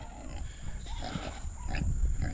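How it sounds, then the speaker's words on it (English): Low grunting and snorting from Idaho Pasture Pigs, faint and close, in a short rough stretch with no one speaking. "I can hear everybody honking and oinking and carrying on"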